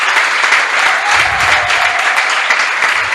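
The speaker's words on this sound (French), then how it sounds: "Je vais vous demander d'applaudir pour nous voir l'heureuse candidate." Sustained, dense applause from an audience at a French dictation contest ceremony, greeting the winning candidate; steady clapping fills the whole stretch without a break.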